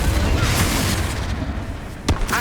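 Confringo spell blast in Hogwarts Legacy lands as a dense booming rumble over dense game noise, with a sharper burst near the end.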